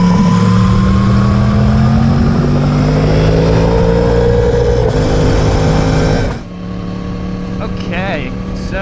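Yamaha R1 motorcycle engine while riding, a loud steady drone with rising and falling tones, cutting to a quieter idle-like hum near the end, with a voice speaking over it.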